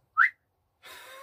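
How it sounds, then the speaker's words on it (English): A single short, sharp whistle from a man, clear and close in a quiet room, followed after a pause by a breathy exhale. "I don't know why I'm doing that whistle"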